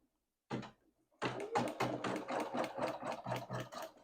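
A home embroidery machine in a 4x4 hoop stitches a large sleeve design, giving a brief whirring burst and then a steady run of rapid, rhythmic mechanical stitching pulses, close and alone.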